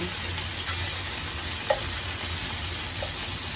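Chicken wings fry in a pan for honey chicken, giving a constant close sizzle and crackle with a few small pops, steady and unbroken with no talking.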